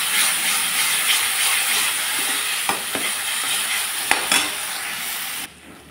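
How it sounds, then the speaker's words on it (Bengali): A mash of potato and tomato hits hot oil and sizzles loudly with a hissing, steamy crackle, broken by a few sharp scrapes or taps, before the sound drops away abruptly near the end. "আলু আর টমেটো মাখা তেলের উপরে ছেড়ে দিলাম আলু টমেটো মাখা।"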